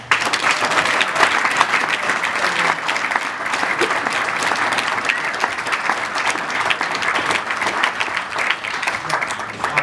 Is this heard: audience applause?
yes